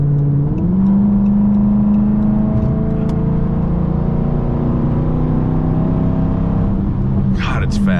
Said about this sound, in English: the straight pipes do sound cool